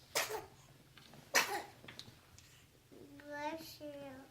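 A child sneezes twice in a quiet room, sharp bursts a second apart, followed by a voice speaking.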